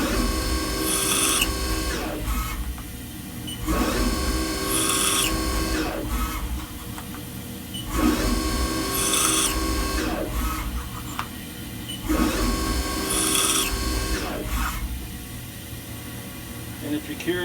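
A power drill bores holes in dodecahedron panels, with four loud whirring bursts of a few seconds each, separated by brief, quieter pauses as the bit moves to the next hole.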